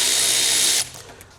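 Power tool whirring steadily for under a second while backing out a 10mm bolt on the front bumper of a Tesla Model Y Juniper Standard, close and loud, stopping abruptly into faint clatter.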